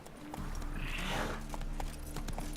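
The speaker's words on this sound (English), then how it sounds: "Here's my magical horse that appears out of nowhere," A horse in the video game The Witcher 3 clip-clops along in a rhythmic series of close hoofbeats over a soft background, with no speech.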